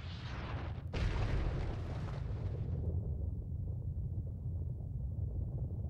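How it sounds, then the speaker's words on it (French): Asteroids crashing into the early Earth and bursting apart, a heavy booming roar with a sharp impact crack near the start, then a deep rumble that fades to a low, dull drone. "Lorsque les astéroïdes s'écrasent au sol, ils éclatent."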